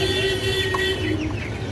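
Chickens clucking amid a busy bird market selling pigeons and poultry at Babur Haat, Chandpur, with steady crowd noise and a brief higher call rising above the background.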